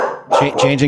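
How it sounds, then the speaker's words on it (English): A pet dog named Rosie gives a few quick barks in a row, loud and close, coming in just after a voice. "that's my dog"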